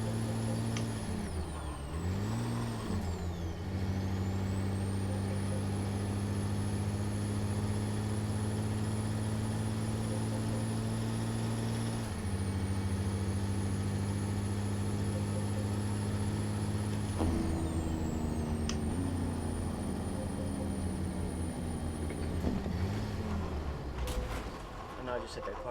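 A video game truck engine hums steadily at idle, its pitch dropping and rising as it downshifts, with an air brake hiss and faint talk underneath.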